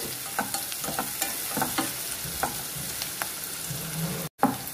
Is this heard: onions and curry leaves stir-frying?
yes